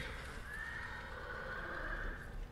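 A horse in the samurai video game Ghost of Tsushima lets out a long, loud whinny that rises and wavers, with faint hoof clip-clop underneath.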